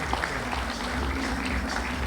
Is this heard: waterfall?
no